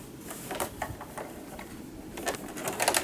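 A sewing machine stitching a quarter-inch seam around a fabric pincushion pouch, a close run of quick needle clatters in short bursts, with no talk.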